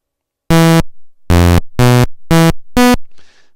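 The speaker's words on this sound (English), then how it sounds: "That is our sync buzzer." Five loud, harsh electronic buzzer bursts of a YM chip sync-buzzer tone made in maxYMiser, evenly spaced with short gaps, followed by a brief faint noisy tail.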